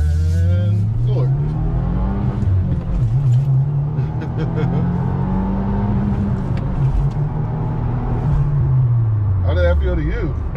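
A 2022 Subaru WRX pulls hard at full throttle, its engine note rising and dipping through the gears as a loud, steady rumble from inside the cabin, with people talking over it.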